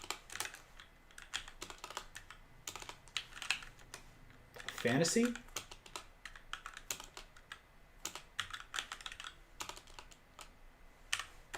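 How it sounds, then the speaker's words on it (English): Rapid, uneven keystrokes on a computer keyboard clatter steadily through a webinar session, close and clear, with a voice talking over the typing throughout. "pardon my typing"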